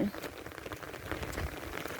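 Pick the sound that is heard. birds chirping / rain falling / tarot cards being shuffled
rain falling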